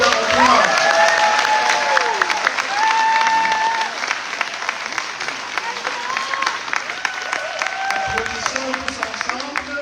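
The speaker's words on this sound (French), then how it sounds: "Un applaudissement pour les finissants et finissantes" Audience applauding graduates at a graduation celebration, a sustained wash of clapping from a large crowd filling the room, loud and continuous, with voices talking over it.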